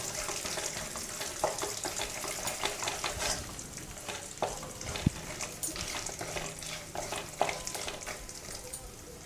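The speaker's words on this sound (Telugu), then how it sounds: "ఇవన్నీ మంచిగా వేగేటట్టు వేయించుకోవాలి." Peanuts frying in a pan for a puffed-rice murmura mixture, stirred as they cook, give a continuous crackling sizzle with scraping stirs and occasional sharp taps, close and moderately loud.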